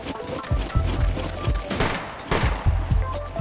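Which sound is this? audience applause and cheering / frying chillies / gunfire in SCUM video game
gunfire in SCUM video game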